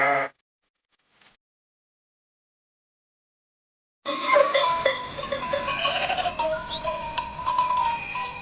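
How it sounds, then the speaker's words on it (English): Sheep bleating from a farm animal, a short bleat at the start followed by a sustained stretch of loud, layered bleating and calling from several animals, near and alone with no talk. "Sheep"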